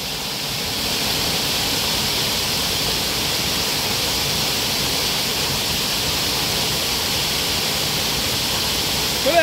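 A waterfall in the Ajodhya hills rushes in a loud, steady wash of white water, continuous and unbroken from start to finish.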